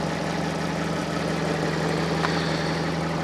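A cold Fiat Panda 4x4 Sisley engine idles steadily, a low, even hum with a faint continuous vibration and no talk over it.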